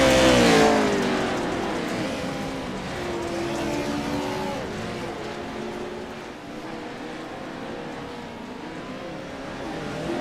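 Race cars roar around a dirt track at the OP SS Fall Brawl, engines droning and rising in pitch as they accelerate and pass, loud at first and then holding a steady, slightly fading rumble with no voices.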